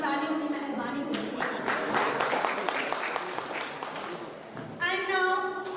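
An audience at a university PhD students' presentation bursts into sustained applause, a steady wash of clapping that swells again near the end while a voice speaks over it.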